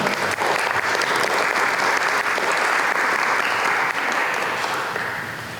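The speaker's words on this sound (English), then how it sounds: "Can we have a round of applause for our speakers today?" An audience applauds speakers at a lunchtime talk, with loud, dense clapping sustained throughout and slowly fading toward the end.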